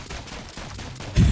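Rapid small-bullet gunfire in the video game Rounds crackles in quick bursts at moderate volume, ending in a louder, heavier burst.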